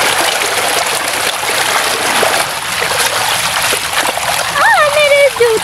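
Fast water in a village stream rushes and splashes continuously, loud and close, with a voice briefly rising over the flow near the end.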